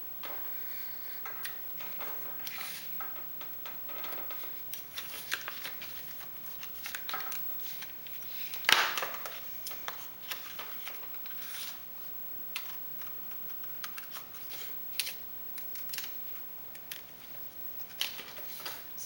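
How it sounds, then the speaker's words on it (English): Paper being cut with an X-Acto knife and scissors to make a design for a glass mosaic sculpture maquette, giving soft, irregular close-up ticks and scrapes, with one sharper cut partway through. "I use an X-Acto knife for the straight parts and a scissors for the curved parts."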